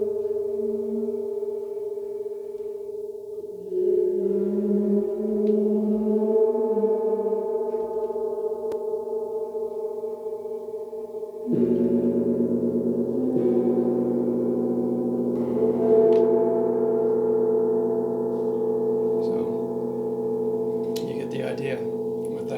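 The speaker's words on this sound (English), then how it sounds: "each of these gongs are hand hammered. They're bronze" A hand-hammered bronze gong rings out in long sustained tones, struck again partway through so a fresh, louder swell of shimmering overtones blooms over the fading hum, alone and close.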